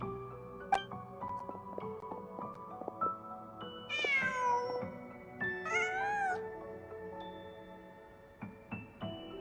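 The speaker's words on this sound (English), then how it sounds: "Just a cat." Two drawn-out meows from a cat in the Genshin Impact video game, clear and fairly close, set over a light ambient backdrop of soft plucked tones and small clicks, with no talking.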